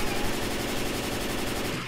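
Rapid automatic gunfire in the zombie shooter Left 4 Dead, a dense continuous burst of loud, close shots that runs for about two seconds and cuts off at the end.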